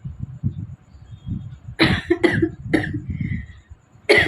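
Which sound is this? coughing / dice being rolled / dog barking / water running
coughing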